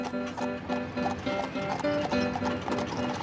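Horse hooves clip-clop steadily as horses pull a wedding cart along a road, the rhythmic beats close and clear, with a horse whinnying briefly and some talk mixed in.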